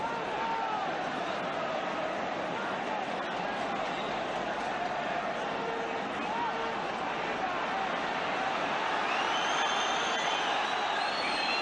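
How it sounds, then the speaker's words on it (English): A large football stadium crowd at the 1979-80 European Cup quarter-final between Celtic and Real Madrid keeps up a steady, distant roar with rising whistles and murmurs, continuous throughout, under a commentator's voice. "Crowd getting a little bit impatient."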